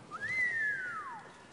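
A single whistle from the studio audience of a German TV entertainment show in Mannheim: one faint, clear tone that swoops upward and then glides slowly down.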